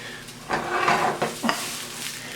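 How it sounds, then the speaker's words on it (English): Onion cooking in a pan for chicken carbonara, a close, loud sizzle broken by a few scraping stirs and utensil clinks against the pan. "Okay, our onion's cooking."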